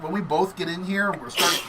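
Someone talks steadily, then a sharp, breathy sneeze bursts out near the end of his speech.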